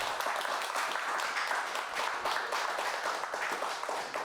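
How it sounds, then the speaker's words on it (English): A round of applause for a panel at a presentation event, steady and dense clapping from an indoor audience filling the whole stretch without talk. "could we have a round of applause for our panel?"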